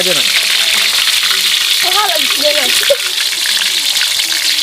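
Rat meat frying in oil until crispy in an outdoor survival cook, a loud continuous sizzle with a voice talking briefly over it.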